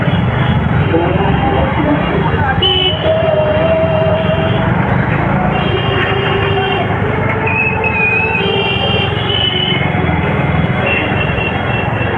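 A train rolls along the rails nearby with a steady loud rumble and occasional high wheel squeals, while people talk over it.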